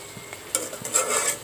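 Kochu loti (taro stolons) cooked with jackfruit seeds is stirred in a pan, with a few soft scrapes and a light sizzle heard close up and briefly.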